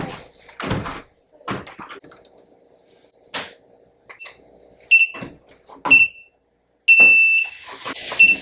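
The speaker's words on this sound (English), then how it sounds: "That beeping is annoying the shit out of me." Electronic alarm beeping in a room, short high-pitched beeps at irregular intervals, the last one held longer, mixed with thumps and knocks of movement nearby.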